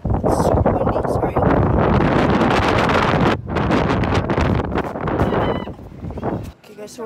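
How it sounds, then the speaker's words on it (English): Strong wind buffets the microphone outdoors in a Walmart parking lot, a loud, roaring rumble that swells and dips, with voices speaking briefly underneath. "It's super windy."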